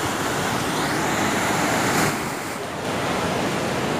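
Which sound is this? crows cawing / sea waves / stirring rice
sea waves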